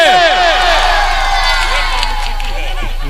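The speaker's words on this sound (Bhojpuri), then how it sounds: "एक बार जोरदार तालियां दिल से टुनटुन यादव जी के लिए" A large crowd cheers and claps with loud, continuous roaring and whooping for Bhojpuri star Tuntun Yadav's entrance at Kamlesh Kumar's home, with no pauses.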